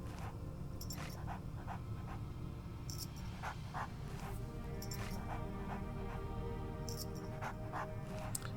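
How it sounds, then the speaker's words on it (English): A pet dog panting steadily close by, a continuous breathy rhythm running throughout with a few faint whimpers and higher clicks over a low background hum. "I can really hear the panting of my new pet"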